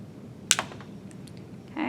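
Wire cutters snip excess craft wire while making a ring, one sharp close click followed by a few faint small ticks, quiet and otherwise still.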